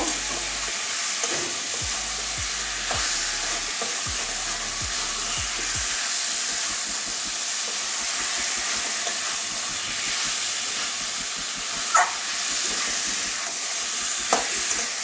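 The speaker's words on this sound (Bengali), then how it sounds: "আলু পটলও দিয়ে দিচ্ছি, আবারও সবগুলো একসঙ্গে কষিয়ে নেব।" Potatoes and pointed gourd being sautéed together in a hot pan for a curry, with a continuous oily sizzle and hiss broken by occasional scraping stirs, close up and without talk.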